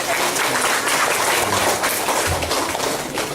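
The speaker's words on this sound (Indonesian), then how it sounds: "Tepuk tangan untuk pemimpin kita." A crowd at a motivational seminar claps for the governor of West Java, a dense, steady wash of applause that continues throughout without a break.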